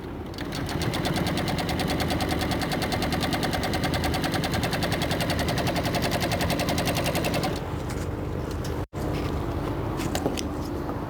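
A sewing machine stitches the ends of a boat cushion in a fast, steady run of loud, rapid needle strokes for most of the stretch, then stops abruptly, leaving a brief shuffle of handling.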